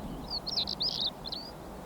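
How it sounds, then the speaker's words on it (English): Short, high chirping notes from a heathland bird at Minsmere come in a few quick bursts over a soft steady background hiss, with no voices. "The heath has its own distinctive birds"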